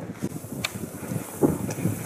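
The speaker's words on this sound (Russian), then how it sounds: "Ветер, но ясно." Wind gusts across open Taymyr tundra, buffeting the microphone with a rough, low rumble that swells and eases over a couple of seconds, with no other sound present.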